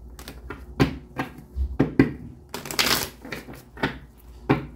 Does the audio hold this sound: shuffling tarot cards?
yes